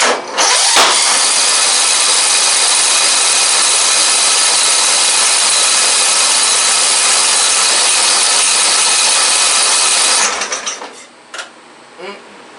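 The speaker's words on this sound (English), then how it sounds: "She has a backfiring problem right now, so let's see if this even works." A Craftsman riding lawn mower engine with a backfiring problem roars loudly and steadily for about ten seconds. It then cuts out, leaving a few faint sputtering pops as it dies.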